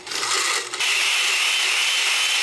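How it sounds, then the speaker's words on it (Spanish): An electric blender whirs as it purees tomatoes with a little water: a brief rattle, then a loud, steady high-pitched whine running close and unbroken. "Le agregamos ahorita también agüita, un poquito de agua y licuamos el tomate."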